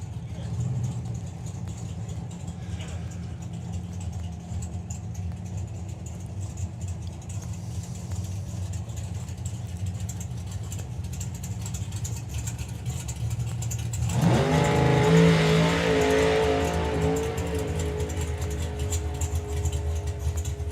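Oldsmobile Rocket doorslammer drag car at a drag strip, a lumpy idle rumbling under a commentator's voice before the engine bursts into a loud, rising launch scream that stays strong.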